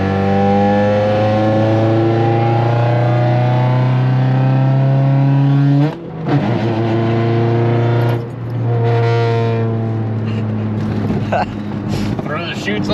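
A drag race car's engine at Route 66 Raceway roars up close in a loud, sustained harmonic drone that briefly drops and surges back twice, with the pitch shifting as it pulls.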